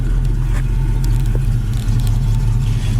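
A 1967 Ford Mustang idling low at around 500 RPM, a loud, steady, deep engine rumble heard up close and alone with no talk.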